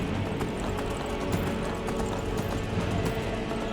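Rapid, steady hoofbeats of a galloping horse in modded Skyrim on Xbox Series X, continuous and fairly loud against a busy game soundscape.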